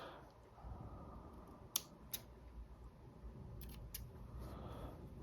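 Scissors snipping the fabric of a shirt, a few sharp close clicks spaced out over a faint quiet background.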